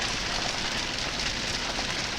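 Heavy rain pouring down outside, a dense, steady hiss of water sheeting onto surfaces, loud and unbroken throughout with no voices.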